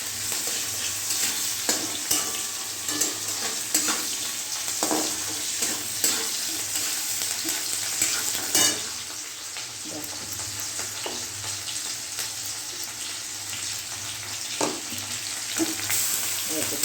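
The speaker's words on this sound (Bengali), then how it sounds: "এবার আমি নাড়তে থাকছি। দেখো তেলের উপরে এলাচও দিয়ে দিচ্ছি, এলাচ, দারচিনি" Cardamom and cinnamon sizzle in hot oil and are stirred continuously. A scraping spatula and occasional clacks of the utensil sound over a steady crackling hiss.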